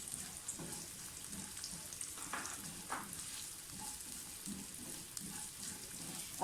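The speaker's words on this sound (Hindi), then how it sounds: "बिल्कुल हल्की आंच पे आपने नट्स को फ्राई करना है।" Nuts such as almonds frying in ghee over a very low flame, a faint, soft, continuous crackle and sizzle with small irregular pops throughout.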